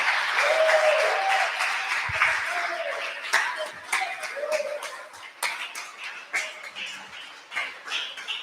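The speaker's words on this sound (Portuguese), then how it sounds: "Você pode aplaudir o Senhor nessa manhã?" Church congregation applauding during a Sunday morning service, loud clapping at first that thins into scattered claps with cheers, whoops and voices mixed in as it tapers off.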